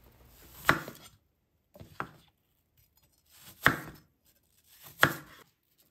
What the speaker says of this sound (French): Épluchez 2 pommes, coupez en quartiers, puis en tranches.